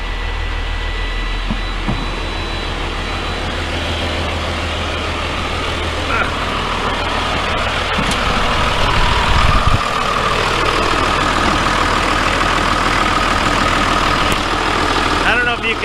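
A Cummins 24-valve diesel engine runs steadily just after camshaft break-in and engine work, a loud continuous low rumble and clatter close by. A voice talks over it part of the time.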